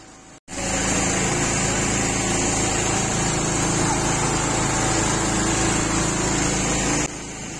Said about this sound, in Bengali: নৌকাতে একটা মোটর লাগানো হয় যেটা দিয়ে নৌকা চলে, ওতে খুব আওয়াজ হচ্ছে ভটভট ভটভট করে,